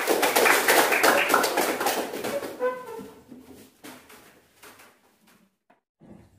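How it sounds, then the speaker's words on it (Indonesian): A class of students claps together, a dense burst of hand claps that thins out and fades into scattered taps and near silence over several seconds. "Tepuk tangan untuk semua."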